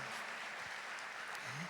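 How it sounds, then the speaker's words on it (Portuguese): Brief, faint applause from the crowd at a Catholic music and prayer gathering, an even patter of clapping heard from a distance for under two seconds. "Vamos aplaudir a Canção Nova"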